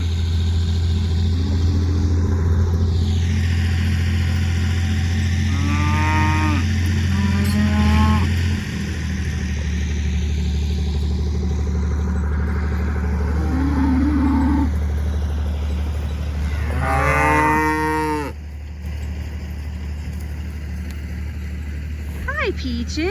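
Cattle and calves moo on a farm near a steer feeder filled with oats. Two long, deep moos come up close over a constant engine-like hum, with people talking.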